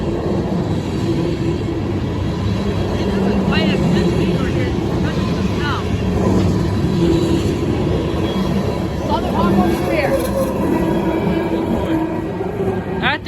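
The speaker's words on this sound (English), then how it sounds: "there's the end of this ethanol train" Norfolk Southern ethanol tank car freight train rolling past at close range in Creighton, a loud steady rumble of wagons with clanking and faint wheel squeals, people talking over it.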